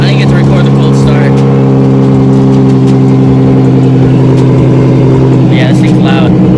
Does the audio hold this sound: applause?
no